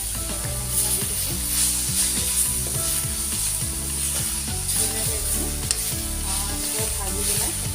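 Spices, salt and ingredients fry in a pan for an Assamese leafy-greens dish, giving a steady, loud sizzle with repeated scraping and stirring clatter throughout.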